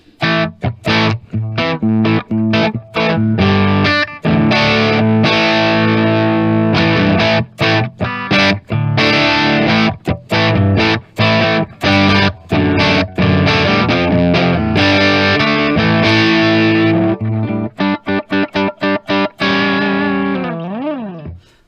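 A heavily processed electric guitar through a POD 2.0 amp modeler with custom impulse responses plays a dense, continuous riff with chords and rhythmic stops, loud and upfront, with no voices.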